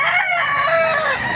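A rooster crows loudly and close by at a poultry market in Baliuag, Bulacan, one drawn-out call with a wavering, strained tone.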